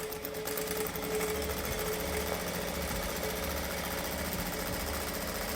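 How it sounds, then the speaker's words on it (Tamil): A sewing machine runs continuously, stitching along the edge of a piece of fabric during a tailoring lesson, with a steady mechanical whir and a rapid rhythmic needle clatter that stay close and even, with no one speaking. "ஓர தையல் வந்து இந்த ஓரமாக வச்சுட்டு நம்ம ஓரமாக தையல் போட்டுக்கிட்டே வரணும்."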